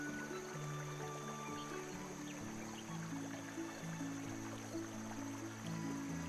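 A babbling brook in The Night of the Rabbit video game trickles in a soft, constant flow under a low sustained musical tone, quiet and unbroken throughout.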